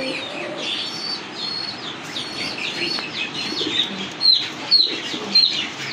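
A pair of pigeons at a pigeon farm, with low coos and clucking among constant high chirping from many birds nearby and a few louder calls near the end.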